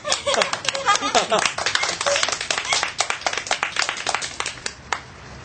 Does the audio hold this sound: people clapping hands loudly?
yes